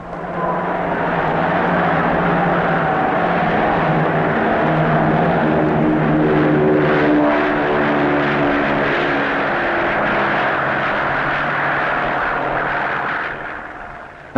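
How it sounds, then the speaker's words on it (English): A Shackleton propeller aircraft drones steadily overhead on a reconnaissance flight over Aden, its engines loud and continuous with a low harmonic hum, fading slightly at the end. "A Shackleton will reconnoiter the area."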